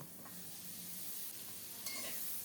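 Black cumin seeds and salt are stirred in a dry pan, producing soft, faint scraping and light sizzling that run steadily with a couple of sharper stirring strokes.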